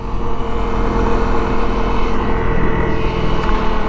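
Honda CRF250L motorcycle cruising a country road in Greene County, its engine a steady, close droning hum with wind rumble, unbroken and even throughout.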